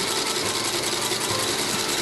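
A sewing machine stitching the inseam that joins the upper to the midsole of a Meindl shoe runs steadily, a fast, continuous mechanical whir and clatter with no pauses.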